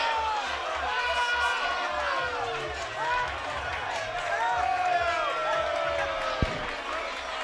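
A boxing crowd in an arena murmurs and stirs as a ring card girl stumbles, a dense wash of many voices at steady, moderate loudness with a brief knock near the end.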